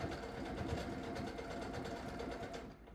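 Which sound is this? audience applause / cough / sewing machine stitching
sewing machine stitching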